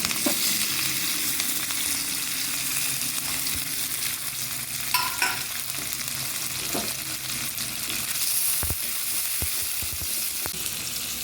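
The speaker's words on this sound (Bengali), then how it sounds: "পেঁয়াজ কুচি আর টমেটো কুচিটা তেলটার মধ্যে দিয়ে দেবো" Steady sizzling of onion and tomato frying in oil, with occasional scrapes and clinks of a spatula stirring the pan; no voices.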